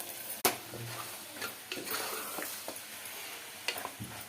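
Onions frying in oil for boti curry, a soft continuous sizzle broken by a few sharp clicks and scrapes of stirring against the pan, close by and with no talk.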